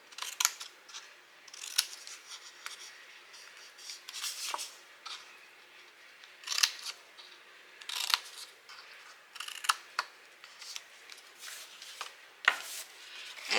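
Scissors snipping through paper or card for a handmade shirt-and-tie gift box, a quiet close series of separate cuts and rustles in an otherwise silent room.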